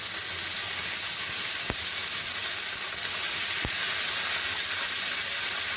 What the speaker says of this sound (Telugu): ఆయిల్ వేసుకోవాలి మష్రూమ్స్ దొరగా వేయించుకోవాలి